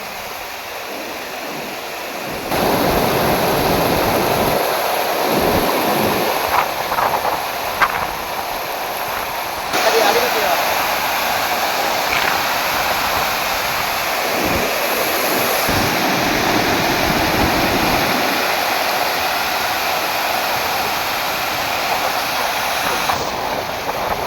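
A steady rushing roar of a small village waterfall in Araku fills the scene, loud and continuous, with faint shifts in intensity throughout.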